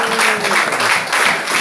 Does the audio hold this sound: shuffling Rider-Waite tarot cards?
no